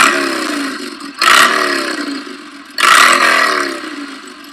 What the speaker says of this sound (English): if you really want to make your iPhone sound like a motorcycle